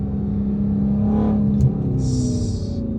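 A supercharged Dodge Charger SRT Hellcat runs with a steady low engine drone, and a brief high whine rises over it near the end. The sound is close and loud, with no talk.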